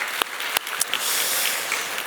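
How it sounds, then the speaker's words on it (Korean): A church congregation in a Korean worship service gives brief applause: a few sharp claps, then a soft, even wash of clapping. "우리의 찬양을 받으신 앞에 영광의 박수를 드리겠습니다."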